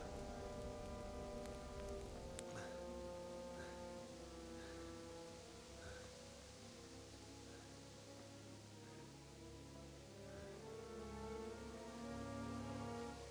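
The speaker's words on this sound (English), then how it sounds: "That rain came on all of a sudden, didn't it?" Soft, steady rain in the video game Kingdom Come: Deliverance patters on surfaces beneath a faint low ambient drone, quiet and continuous without voices.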